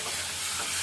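Bottle gourd and dried fish sizzle in a hot pan while being stirred, a brief, steady hiss with soft scraping close by and no voices.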